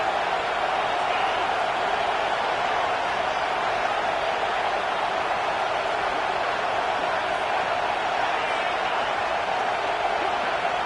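Steady, relentless stadium crowd roar in an EA Sports College Football game, Auburn Tigers vs NC State, holding as a dense, unbroken wash of noise with no breaks throughout.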